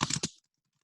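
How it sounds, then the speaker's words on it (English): A few quick computer keyboard key clicks sound up close in a short burst, then stop into silence, as a palette name is typed. "we can come in here and we can just type the name of it"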